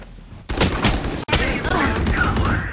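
Gunfire in the shooter game Valorant: a rapid, loud burst of shots right up close, with a brief gap in the middle before the firing resumes, over game background noise.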